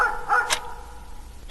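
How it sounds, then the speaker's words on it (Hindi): Dogs barking far off at night over a sleeping city, a few faint, distant barks spaced apart against a quiet background. "कहीं दूर कुत्ते भौंक रहे थे।"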